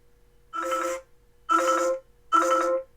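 A ringtone plays from the rear-mounted speaker of an Umidigi Bison smartphone, three evenly spaced, loud, buzzy chimes about half a second each, with quiet gaps between them and a faint steady hum underneath.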